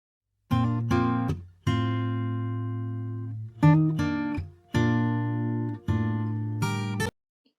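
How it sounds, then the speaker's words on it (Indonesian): Plucked guitar notes ring out one after another, each attack followed by a sustained decay, with brief gaps between groups of strums; clear and close, no voices. "itu adalah contoh bunyi buatan yang berasal dari gitar yang sedang dipetik"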